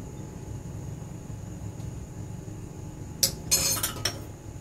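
A metal spoon scrapes and clinks against a pot a few times while foam is skimmed off Thai sour curry (gaeng som) with shrimp and mixed vegetables, brief close clatters over a quiet kitchen hum with no talking.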